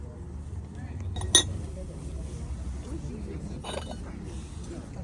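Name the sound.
porcelain saucers clinking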